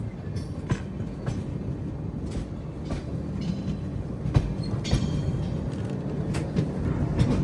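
The Dakshin Superfast Express rolls steadily into the Itarsi section, its wheels rumbling and clicking over the rail joints in a continuous mid-level clatter with occasional sharp knocks.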